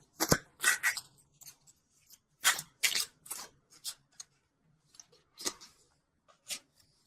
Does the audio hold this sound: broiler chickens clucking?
no